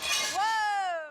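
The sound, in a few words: glass pane shattering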